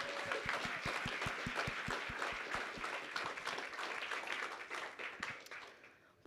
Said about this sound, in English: can we please give a round of applause to our incredible culinary arts students and serving staff